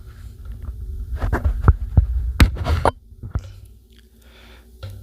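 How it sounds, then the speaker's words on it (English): Close handling noise as a thick windscreen is pulled off a Maono PD200X microphone: muffled rustling, soft thumps and scraping right on the capsule over a low hum, with a few sharper knocks and no speech. "let me just take off the windscreen here"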